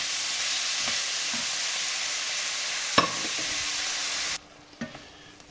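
Carrots, onions and lardons sweat in a pan with a steady broad sizzle for over four seconds, broken by a couple of sharp stirring clatters, before the frying drops abruptly to a faint hiss with a last knock or two.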